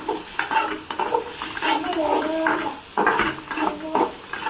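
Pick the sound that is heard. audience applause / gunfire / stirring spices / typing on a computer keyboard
stirring spices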